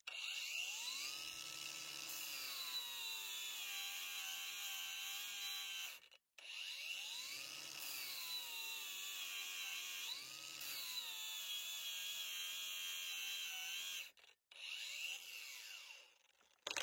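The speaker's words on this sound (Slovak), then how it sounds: "flexa má naozaj výbornú silu aj pri brúsení" A Parkside Performance PWSAP 20 Li D4 20 V cordless angle grinder runs steadily with a high whine while grinding, pitch rising and falling under load, with two brief stops before it spins up again.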